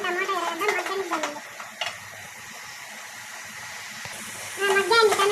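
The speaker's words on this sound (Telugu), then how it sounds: "కొంచెం టమాటా ఎర్రగడ్డ మగ్గనిద్దామండి." Chopped tomato and onion soften and sizzle in a pan for a meal maker curry, with stirring noise. A voice talks over the frying at the start and again at the end, leaving a quieter sizzle between.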